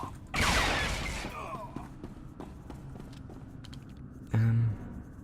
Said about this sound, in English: That was the one I was looking for, sweeping gunfire.